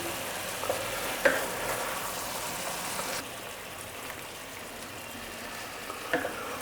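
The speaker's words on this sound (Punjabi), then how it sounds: "ਇਹ ਸਾਰੇ ਦੀ ਸਾਰੀ ਗੋਭੀ ਤੇ ਆਲੂ ਇਹਦੇ ਵਿੱਚ ਮਿਕਸ ਕਰ ਦਿੰਦੇ ਆ ਇੱਕ ਵਾਰੀ ਚੰਗੀ ਤਰ੍ਹਾਂ ਮਿਲਾ ਦਿੰਦੇ ਆ" Cauliflower and potatoes stirred together in a sizzling spiced pan, a steady frying hiss with a few scraping clinks of the spoon, the sizzle dropping lower halfway through.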